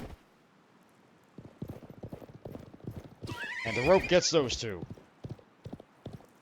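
Horses in the Live A Live HD video game gallop with rapid clip-clopping hooves, then a loud burst of neighing and whinnying rises midway, while a voice talks over the start.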